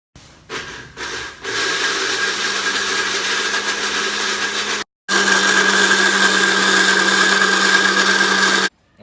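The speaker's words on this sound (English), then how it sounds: "Next, I am going to whisk some egg whites and fold the egg whites into the batter." An electric mixer whisks egg whites with a loud, steady high whirring whine. It stutters on in a few short bursts, runs continuously, stops briefly, then resumes and carries on up close.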